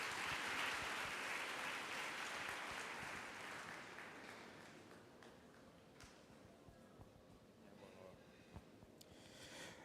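An audience at a National Science Week launch event applauds for a speaker, a full burst of clapping that slowly thins and fades over about ten seconds, with faint voices beneath.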